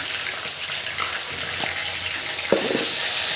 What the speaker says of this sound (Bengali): এখন এটার ভিতরে আদা রসুনের পেস্ট দিয়ে দিবেন, একসাথে দুইটাকে ভেজে নেবেন।